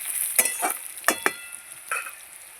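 Fried potatoes and a ground paste of cumin, ginger, garlic and onion sizzle softly in a pan, broken by several sharp scrapes and clinks of a stirring utensil against the metal.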